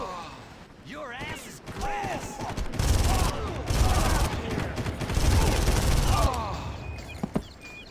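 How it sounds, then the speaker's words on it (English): Rapid gunfire, blasts and crashes from a Far Cry firefight with a rocket launcher, dense and loud throughout with a heavy burst in the middle, while a voice talks over the chaos. "Oh no, the rocket launcher was a bad idea."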